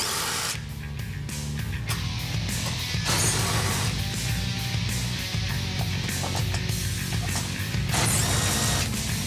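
A ratchet wrench clicks steadily while loosening 8mm transmission pan bolts on a Ford F-150, a continuous close mechanical ratcheting with brief pauses and no talk.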